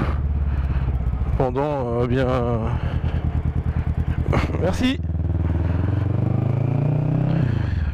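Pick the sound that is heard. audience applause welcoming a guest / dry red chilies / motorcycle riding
motorcycle riding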